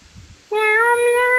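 A human voice imitating a cat, a short low murmur followed by a loud, sustained tonal meow with rich harmonics, sung clearly and alone.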